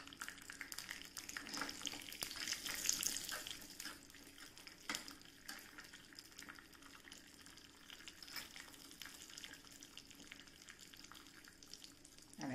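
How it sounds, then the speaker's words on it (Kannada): Cashews and raisins frying in a couple of spoons of hot ghee for boondi laddu: a steady close sizzle and crackle with occasional sharper pops and stirring, running continuously without talk. "ಸ್ವಲ್ಪ ತುಪ್ಪ ಬಿಸಿ ಮಾಡಿ ಗೇರು ಬೀಜ ಮತ್ತು ದ್ರಾಕ್ಷಿಯನ್ನು ಹುರ್ಕೊಳ್ತೇನೆ"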